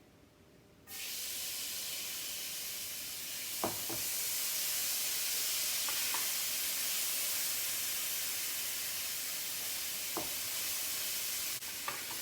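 A small onion hits a scorching hot pan for sauerkraut soup and sets off a sudden steady hiss and sizzle that holds for seconds, broken by a few soft clinks of stirring.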